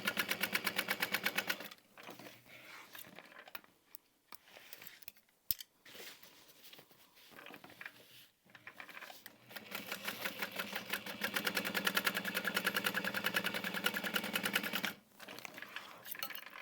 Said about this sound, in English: I'm just folding that seam flat and sewing right over what I've already done